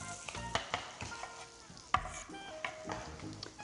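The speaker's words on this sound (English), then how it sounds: "we're going to cook these onions until they're clear" Onions frying in butter in a pan, a steady close sizzle broken by a few sharp clinks and scrapes of stirring, with no voices.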